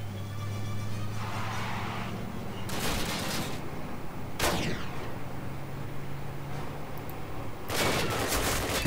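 Call of Duty gameplay with bursts of gunfire and sharp shots cutting through a low engine-like rumble, loud cracks near the middle and a heavier burst at the end.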